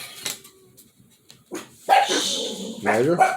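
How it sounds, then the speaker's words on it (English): A dog throwing a fit barks and whimpers in a few sharp, close outbursts, loudest near the end, with a voice briefly speaking. "That's my dog's throwing a fit over there."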